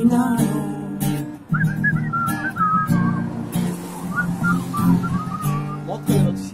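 A street performer at a Friday night jam whistles a melody over a backing track, bright warbling phrases running through the middle with accompaniment and beats underneath.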